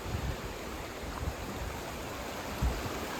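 Floodwater in Ackerly Creek in downtown Dalton, Pennsylvania rushes in a steady broadband roar, with a few low thumps, heard alone.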